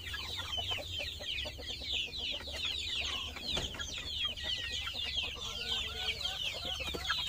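Many chickens cluck and chatter together in a busy coop, with soft overlapping calls and a low hum of background noise.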